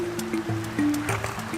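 Water in a small creek full of crawfish and minnows runs steadily close by, a continuous rushing babble with faint splashy bursts.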